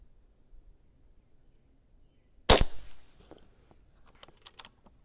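A Niksan Elf PCP air rifle in .22 or .25 calibre fires a single sharp, loud crack in an otherwise quiet setting, followed by a short ringing decay and some faint small clicks.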